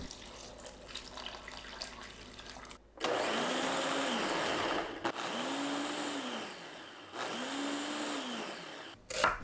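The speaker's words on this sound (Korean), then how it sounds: "믹서에 식은 감자, 홍고추, 청양고추, 양파, 물 300ml 넣고 거칠게 갈아줍니다." Blender coarsely grinding cooled potato, red and green chilies, onion and water, running in three loud bursts of whirring with short pauses between, the motor pitch rising and falling in each burst, with no talk.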